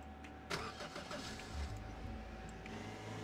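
A truck engine runs in Roblox Lumber Tycoon 2 as a continuous mid-pitched motor hum, with a sharp burst near the start and a low surge partway through, steady and close, with no talking.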